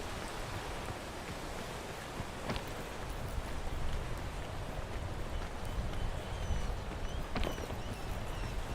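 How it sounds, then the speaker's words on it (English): Steady rain in the video game PEAK, a continuous broadband hiss with no distinct drops, holding at an even moderate level throughout with a couple of faint brief clicks. "It's okay, it's still raining."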